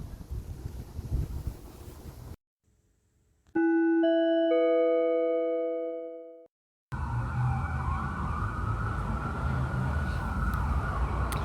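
Emergency vehicle sirens wailing in an outdoor street setting, with a clear rising and falling tone that swells loudly and then fades, framed by wind noise on the microphone before and after.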